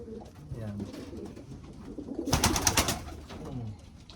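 A pigeon coos softly among background chatter, followed by a brief burst of flapping or rustling at close range.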